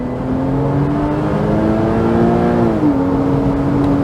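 A Porsche Boxster engine revs hard as the car accelerates in second gear, a loud, steady rising howl close by that drops briefly near the end with the shift, then climbs again.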